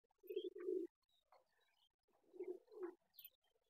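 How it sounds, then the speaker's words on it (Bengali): Pet pigeons cooing in a loft, with a few low, throaty coos in two short bursts, close and moderately loud, and quiet gaps between them. "আমার সব পায়রাই এখন মস্তিতে রয়েছে"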